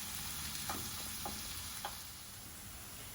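Onions fry in a pan as they cook until brown. A steady, close sizzle runs throughout, with a few soft stirring scrapes and clicks near the start and no talking.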